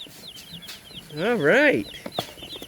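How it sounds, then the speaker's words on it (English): Small chicks peep in quick, high-pitched chirps nearby, and a person speaks briefly partway through. "They're called chicks because they're baby chickens."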